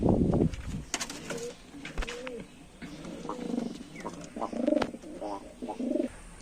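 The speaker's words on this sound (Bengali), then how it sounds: "এই পিওর গিরাবাজ পায়রা এটা" A pure Girabaz pigeon cooing close by, a series of soft, throaty rolling coos repeated over several seconds.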